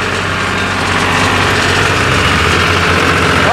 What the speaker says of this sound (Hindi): बहुत बढ़िया शानदार ट्रैक्टर।